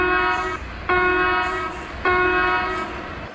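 Indian Railways train horn sounding three short loud blasts in a row, each a harmonic blare fading as it goes.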